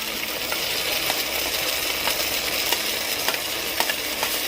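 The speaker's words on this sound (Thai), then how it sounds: "จากนั้นนะครับเติมพริกลงไปนะครับ" Chilli stirred into oyster sauce fried rice in a hot pan gives a steady sizzling hiss, with scattered light clicks from the utensil scraping through the rice.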